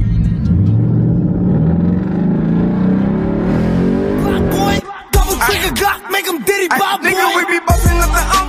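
A custom Camaro's engine rumbles and revs loudly for several seconds, then drops off as excited voices shout and talk over fainter engine noise close by.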